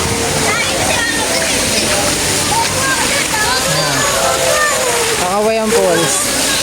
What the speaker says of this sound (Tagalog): Kakawayan Falls.